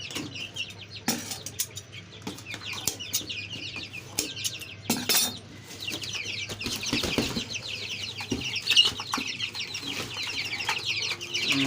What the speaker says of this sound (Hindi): ये देखें 13 चूजे भाई दे के गए ये